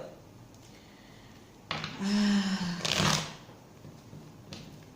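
Tarot cards are shuffled at an office desk in two short, crisp bursts of riffling and flapping, close up, with quiet room tone before and after.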